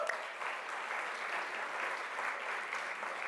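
An audience at an evening celebration of nonprofit news breaks into steady applause, a dense, even patter of clapping held at moderate distance throughout.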